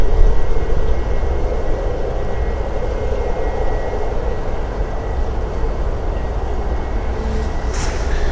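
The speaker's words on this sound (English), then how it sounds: "In fact, Ryanair is now going into the hangar." A Ryanair jet taxis into a hangar at Stansted Airport, its engines a loud, steady roar and whine that hold throughout with no pause.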